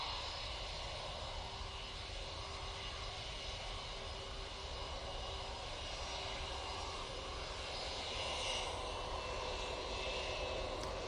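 An Airbus A320 moves at Manchester Airport, its jet engines making a steady, fairly distant rumbling drone that swells slightly toward the end.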